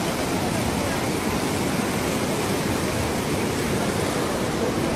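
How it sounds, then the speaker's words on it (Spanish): A mudflow-swollen river rushes under a bridge in Tacna, making a loud, continuous roaring wash with no letup. "Como vemos, ahí está el huaico en el puente."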